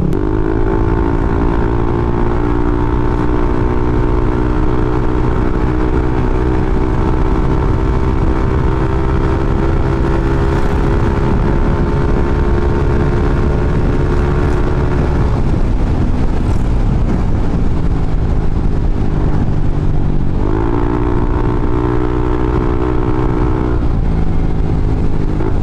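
A motorcycle fitted with a JVT Pipe V3 exhaust and a CVT set drones steadily at speed, the engine pitch dropping and rising again as it shifts, with wind buffeting the microphone.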